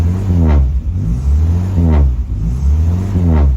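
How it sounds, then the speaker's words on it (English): A Morris Minor engine revs up and falls back repeatedly after a cold start, three rising-and-falling surges over a steady loud idle, close by with no talking. "the trombone sound of a Morris Minor"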